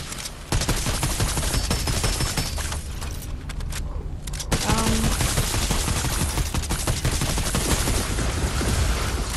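Gunfire rings out in a frost zombie survival video game, dense rapid bursts of loud shots firing almost continuously, with a brief lull partway through.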